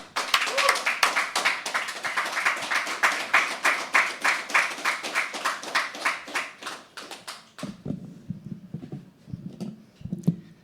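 An open-mic poetry audience at The Habitat claps to welcome the next poet, many hands beating fast in a dense, steady burst that fades out at the end, followed by softer murmuring.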